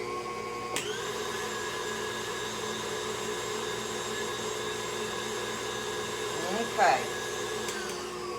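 Electric mixer blending pumpkin pie filling, a steady whirring motor hum running throughout, with a brief clatter and one short spoken word partway through.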